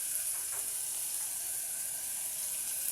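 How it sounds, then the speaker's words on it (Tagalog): Cooking oil sizzles and crackles in a pan, a dense, steady hiss with faint pops, close and fairly quiet, with no talking over it. "kumulo-kulo na ang mantika."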